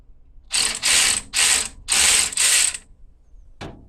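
A ratchet wrench loosens a castle nut on a 1983 Chevy Scottsdale C10 truck in five loud, rapid bursts of close ratcheting clicks, followed by one short sharp metallic clack.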